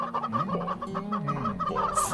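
A chicken gives a run of close, steady clucks and low murmuring calls, loud and near, ending with a brief higher squawk; no talking is heard.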